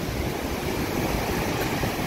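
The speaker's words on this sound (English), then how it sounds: "Waves. Yeah, it's good for surfing." Sea waves roll at a beach near Fuengirola as a continuous broadband wash of surf, steady and fairly faint, with a little wind rumble and no voices.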